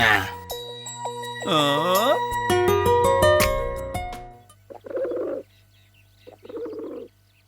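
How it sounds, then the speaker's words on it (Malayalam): Music plays and fades, then two short, soft pigeon coos follow a moment apart, close by in a quiet room. "പ്രാവ്."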